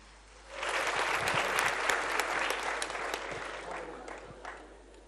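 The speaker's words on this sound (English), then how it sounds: "Can we give all the comedians that's performed a round of applause" Comedy show crowd in Tanzania gives the comedians a round of applause, a thick wash of clapping that swells in quickly, holds strongly, then gradually thins and fades.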